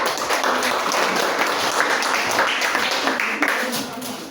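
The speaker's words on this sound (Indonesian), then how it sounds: "Tepuk tanganlah untuk kelompok 4" A classroom full of students claps together, a dense, lively round of applause after a group presentation that holds steady and begins to fade at the end, with voices mixed in.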